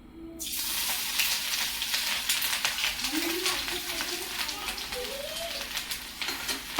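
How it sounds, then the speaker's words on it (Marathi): Ginger and garlic sizzle in hot oil in a kadhai, a steady close crackling hiss that runs throughout, with a voice speaking faintly over it. "कढाई ठेवली त्यामध्ये तेल टाकलं आता आपण टाकूया हे अद्रक लसण आहे हे टाकते"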